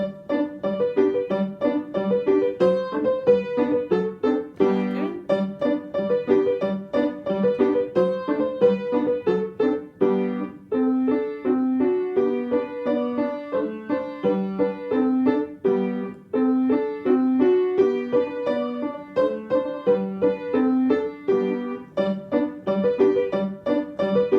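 Piano playing a repetitive exercise at a brisk tempo, steady even notes in both registers, close and continuous with no talking.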